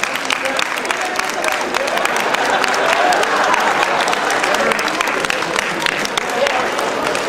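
A concert audience in Kragujevac, at a 2007 event with the Association of the Blind, breaks into loud, sustained applause, dense crowd clapping filling the hall throughout while a voice carries faintly over it.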